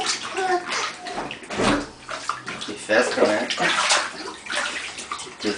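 A small child splashes and sloshes water in a bathtub, with irregular nearby splashes and running water under an adult's cheerful talk.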